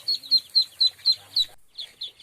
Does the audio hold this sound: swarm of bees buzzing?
no